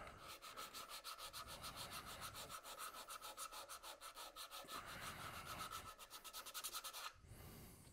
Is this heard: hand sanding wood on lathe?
yes